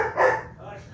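A dog gives a single short bark in a home craft setting, a brief yelp that stands out near the start, with a voice faintly in the background.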